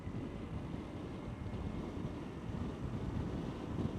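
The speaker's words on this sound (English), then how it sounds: "I'm more head on to the wind this way than I was the other way" Steady wind buffeting the microphone while riding a Honda CT125 Trail 125 motorcycle, a continuous low rumbling roar with little variation and no talking.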